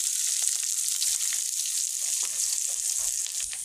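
Mustard seeds, green chili and onion sizzle and crackle in hot oil, a steady bright frying hiss with small pops, close and alone.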